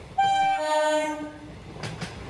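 A train horn blares out close by as a train leaves Sealdah, then fades into the rumble and rattle of the moving train.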